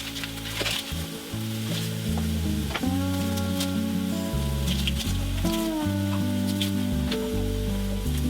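Beef searing in a pot for a pot roast, a loud dense sizzle with crackling pops and some scraping, joined by a low tonal hum from the kitchen throughout.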